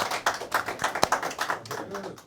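A round of applause from a small audience at a debate-style show, quick uneven claps close by with a few sharper slaps, brief and fairly lively, with some voices mixed in.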